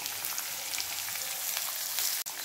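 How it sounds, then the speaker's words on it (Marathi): Onion with cumin, asafoetida, peanuts and spring onion sautéing in a pan for brinjal bharit, giving a steady close sizzle with a brief cut near the end and no talk. "छान परतून घ्यायचा आहे।"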